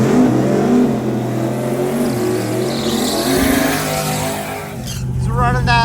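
A turbocharged Camaro race car accelerates hard down a drag strip during a drag racing event, its engine roar loud and sustained, with a commentator talking over it throughout.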